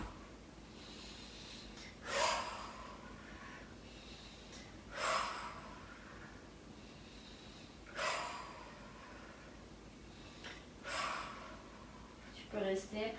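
Deep breaths during a stress-relief routine, four slow full inhalations each let out all at once, spaced evenly a few seconds apart and heard close and soft over quiet room tone.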